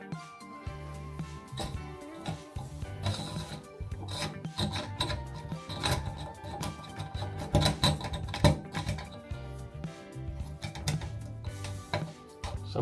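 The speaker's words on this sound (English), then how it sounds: "you just put this in the drain and keep pulling it in and out" A plastic drain hair removal tool scrapes and rasps as it is pulled in and out of a drain, a busy close rubbing with irregular bursts.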